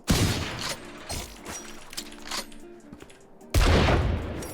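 Shots from a hard-hitting gun in Valorant, a few loud close bursts separated by quieter stretches with faint mechanical clicks of handling and reloading between them.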